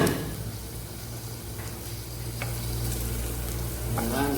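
Onion and garlic sautéing in a pan for Filipino chicken wings adobo, a steady close sizzle with scraping stirring sounds and occasional light knocks throughout.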